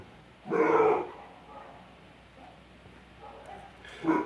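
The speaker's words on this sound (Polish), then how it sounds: "Coś nam szczeka za oknem i w mieszkaniu." A dog barks outside the window and inside a flat, in a burst of loud barks early on, then quieter sounds and another bark at the end.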